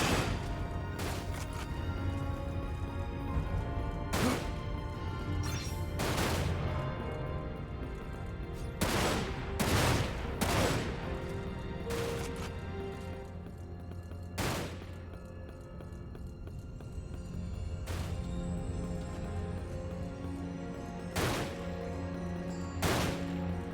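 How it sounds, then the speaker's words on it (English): Enemy gunfire in the shooter game Dirge of Cerberus: bursts of automatic fire and separate sharp shots ring out at irregular intervals, loud and close, with no talking over them. "Is this guy seriously trying to shoot me through a wall over here?"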